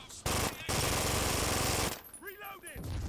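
Loud, sustained automatic gunfire from the video game Brink rattles in two long bursts, then gives way to a brief voice and quieter game noise.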